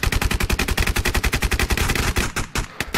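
A video game squad opens fire together, producing rapid, loud bursts of automatic gunfire in a steady rhythm, close and dense, tapering into scattered shots at the end with no talking.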